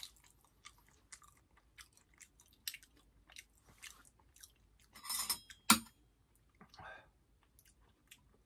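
Close, wet chewing and crunching of tough, leathery fried chicken come in irregular bites, with a couple of louder crunchy bursts in the middle.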